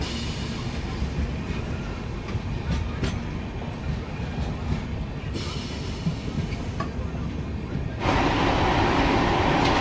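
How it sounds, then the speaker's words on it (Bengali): A train pulls out of Kanthi station with a steady rumble of wheels on rails, faint clicks and squeals, then a sudden louder roar of rushing track noise near the end. "ট্রেন ছেড়ে বেরোচ্ছে কাঁথি স্টেশন"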